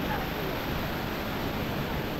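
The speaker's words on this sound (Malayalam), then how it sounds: "അപ്പൊ ഇതാ ഇതാണ് വെള്ളച്ചാട്ടം എന്ന് പറഞ്ഞത്" A forest waterfall, running low in the dry season, pours steadily as a dense, constant rush of falling water, loud and close with no breaks.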